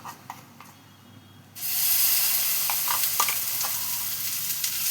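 Spice paste for egg curry hits hot oil in a pan and sizzles loudly and steadily after a quieter start, with a few faint clinks of stirring over the continuous frying hiss.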